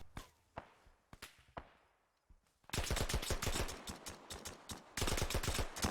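Gunfire in a military video game, a few single shots ringing out with echoing tails, then a loud, sustained burst of rapid automatic fire and overlapping shots that runs on to the end.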